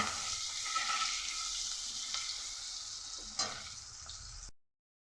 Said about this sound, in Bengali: এই পেঁয়াজটাকে বন্ধুরা লাল করে বেরেস্তার মতো করে ভাজবো